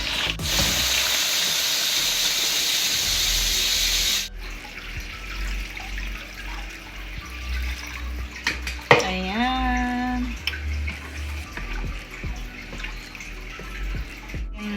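Hot water pours in a loud, steady hissing stream into a pot of chicken soup for about four seconds, then stops, followed by softer kitchen clatter and a voice.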